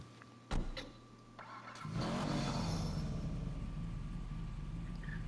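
A custom Benny's car in GTA Online starts up: a couple of clicks, a starter crank, then the engine catches and settles into a steady, loud idle rumble that continues alone.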